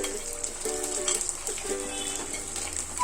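Vathal fries in hot oil with salt, a steady close crackling sizzle with bubbling throughout and no talk.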